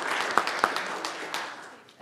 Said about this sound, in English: she got a great round of applause